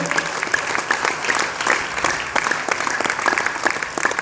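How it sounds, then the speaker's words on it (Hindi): Energetic audience applause for a company and its product, dense crowd clapping with crisp individual claps standing out, loud and continuous throughout, with some voices mixed in. "जोरदार ताली डिएक्शन के लिए और डिएक्शन के प्रोडक्ट के लिए जोरदार ताली"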